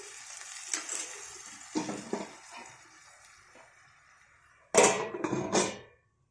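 Cabbage and potato curry cooks in a pan with salt added, a soft sizzle under occasional stirring scrapes, ending in a couple of louder, close clattering strokes before falling quiet.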